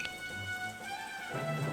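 Steady rain falls through a rainy-day battle scene in the strategy game Banner of the Maid, a soft even hiss with faint music tones running over it the whole time.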